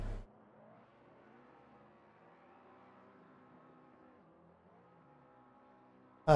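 A GT3 race car engine from the racing game Assetto Corsa Competizione hums faintly at moderate revs on a parade lap at Watkins Glen, steady and distant, with sharper bursts at the very start and end.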